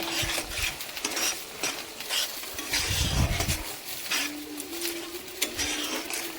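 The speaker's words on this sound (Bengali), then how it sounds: "এরপরে দিচ্ছি হলুদ গুঁড়ি, লঙ্কা গুঁড়ি, জিরা গুঁড়ি, একে একে দিয়ে আবার একটু নাড়াচাড়া করে নিতে হবে" Turmeric, chili and cumin powder are stirred into a pan of frying masala for matar paneer, with repeated spoon scrapes against the metal over a soft sizzle.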